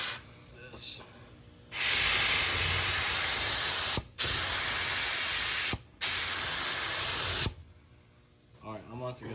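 Rattle-can spray paint from an aerosol can, given as a cheap paint job, hissing loudly in three long bursts separated by brief pauses, with a quieter stretch before and a little faint talk afterward.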